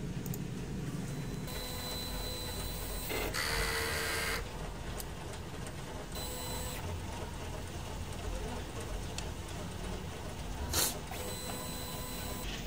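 A DTF printer running its print head cleaning cycle, with a steady mechanical whir and hum broken by a few short higher whooshing bursts from the moving parts. A voice speaks briefly over it.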